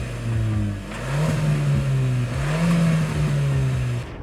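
Hyundai Creta N Line turbo engine revs up and settles repeatedly, a mid-pitched hum that swells and drops in rhythmic blips close to the microphone, with no talking.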